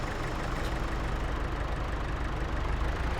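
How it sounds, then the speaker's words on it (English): A tractor pulling a mower in a farming simulator game gives a steady, loud, rough engine drone that holds without a break, with no talk. "listen to that bad boy roar. This ought to be much quicker with this mower"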